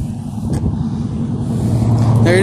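A bicycle powered by a small weed eater engine travels down a road, giving a steady loud buzzing motor drone close by with continuous road and wind noise.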